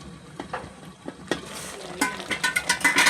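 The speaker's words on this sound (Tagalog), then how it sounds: "Pakuluan lang natin ng mga ilang minuto" Cassava and sago simmering in coconut milk in a covered pot make soft, irregular bubbling pops that grow louder and more frequent, heard nearby without talk.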